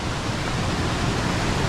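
Rushing waterfall water on a remote tropical river, a loud, steady broadband roar filling the whole clip without pause, close by and with no voices over it.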